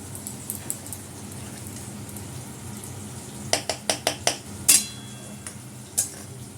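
Goat meat with turmeric and chili powder fried in a pan: a soft steady sizzle runs under the whole stretch, then a quick series of sharp metallic scrapes and clinks from stirring near the end, close and without talk.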